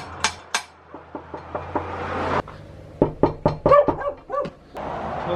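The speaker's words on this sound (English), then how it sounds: "I've knocked twice, no one's answering" Knuckles rap on a door during a coastal road trip: a string of about eight sharp knocks at a steady pace, then a pause and a louder cluster of thuds and bangs, with no one talking.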